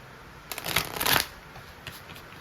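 Tarot cards being shuffled by hand: one quick riffling burst of papery flutter lasting under a second, close and fairly soft, followed by a faint single card tap in a quiet room.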